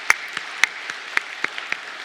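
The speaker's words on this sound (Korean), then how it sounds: "박수로 환영하도록 하겠습니다" Applause from a church congregation welcoming a family during a Sunday worship service, sparse and uneven with a handful of distinct claps spread over two seconds rather than a full roar.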